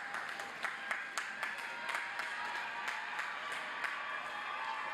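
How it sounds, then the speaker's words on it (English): Graduation crowd at a spring university commencement ceremony applauding and cheering, a dense steady wash of clapping with scattered sharper claps and faint shouts throughout, fairly distant and reverberant. "Let's give them a big round of applause."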